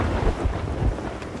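A thunderstorm at sea in Sea of Thieves: a steady wash of rain and wind with low rolling rumbles of thunder, loud and constant, with no voices.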